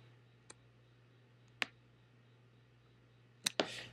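Sparse computer mouse clicks while working with the Shape Builder tool in Illustrator CS6: a few sharp, isolated taps spaced apart, followed by a quick double click, heard up close against a quiet background.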